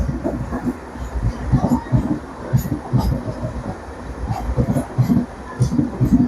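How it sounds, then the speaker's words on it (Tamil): The Villupuram to Mayiladuthurai MEMU express rolls into a station with a loud, rhythmic clatter of wheels over rail joints, repeating steadily throughout. "இதுதான் விழுப்புரத்துலேருந்து மயிலாடுதுறைக்கு போகக்கூடிய மெமோ எக்ஸ்பிரஸ்"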